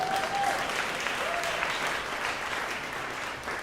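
Sustained clapping from a large audience, a dense even wash of applause that fades slightly toward the end.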